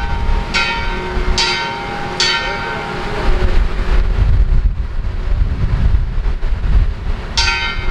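Church bells ring out ahead of a wedding in San Francisco, with several separate strokes spaced a second or so apart and a heavy, rumbling wind buffeting the microphone underneath.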